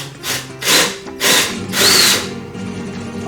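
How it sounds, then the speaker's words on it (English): A power drill boring into a rung for a budget reef aquarium build, four short whirring bursts with pauses between, close and loud, with a faint whine rising in each burst. "I'll just keep drilling and testing"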